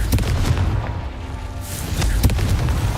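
A Confringo blasting spell going off in Hogwarts Legacy, a loud booming impact followed by a second sharp blast, set against continuous dense game noise.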